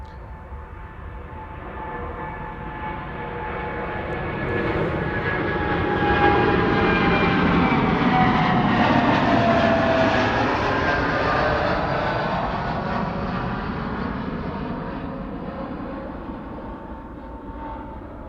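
American Airlines Boeing 787-8 Dreamliner departing Amsterdam Schiphol for Philadelphia: a steady jet roar with thin whining engine tones builds to a loud plateau near the middle and gradually recedes, heard alone without speech.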